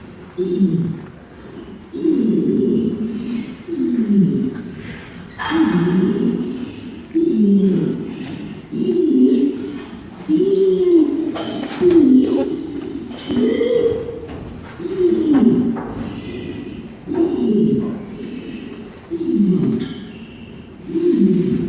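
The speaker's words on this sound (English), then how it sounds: "This is called a long call vocalization." An orangutan's long call at a zoo: a deep, booming series of rhythmic pulsing calls, roughly a dozen evenly spaced bursts, loud and resonant over faint forest background.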